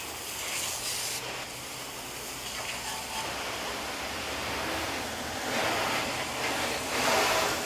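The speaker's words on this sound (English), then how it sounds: "you want to get the more loose debris off with that hose or the water" A garden hose sprays water steadily across a car during a wash, producing a continuous close hiss that swells slightly louder toward the end.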